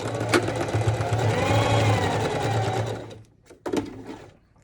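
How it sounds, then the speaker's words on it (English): A sewing machine closes a small pleat in a fabric face mask, humming and clattering steadily up close for about three seconds before a short final burst. "It's just a tiny little shape in the fabric, and then sewing it closed right here"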